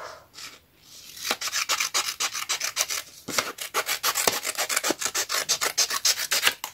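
Scissors snip through card paper while a shabby-style ATC card and bookmark are being made, giving a close, steady run of rasping cuts in quick rhythmic strokes with a brief pause partway through.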